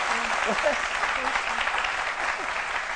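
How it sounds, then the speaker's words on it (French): Steady applause from an audience fills the space, dense and continuous, with a few voices calling out underneath. "Docteur Philo, que je vous demande d'applaudir."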